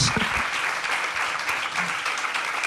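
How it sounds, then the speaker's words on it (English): An audience at a trans identity panel talk claps for a departing guest, a dense, continuous burst of applause filling the room, steady and fairly loud throughout. "Give her a big applause."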